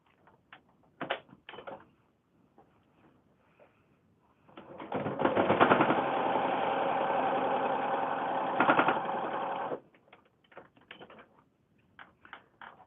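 Sewing machine stitching a foundation paper pieced flower block, running in one steady burst of about five seconds, close and fairly loud, with soft handling clicks and rustles before and after.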